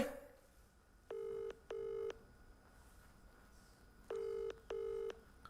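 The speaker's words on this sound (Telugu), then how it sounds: "ఫోన్ రింగ్ అవుతుంది" A telephone ringback tone sounds in two pairs of short electronic pulses during an outgoing call, clear and steady over a faint background hiss, with no talking.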